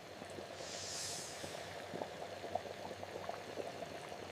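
Sugar melts into dark brown caramel in a pan, giving a steady, quiet bubbling and gentle hiss throughout, with a soft airy swell early on and a few small pops near the end.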